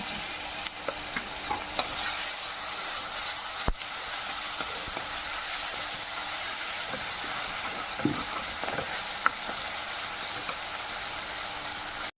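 Crushed ginger and garlic sizzle in hot oil for a Kerala-style pork fry, a steady close frying hiss with occasional stirring clinks and scrapes throughout.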